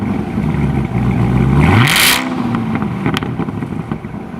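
A 2019 Chevrolet Corvette ZR1's engine revs once, loud and close, climbing sharply to a brief peak before falling back to a steady rumbling idle.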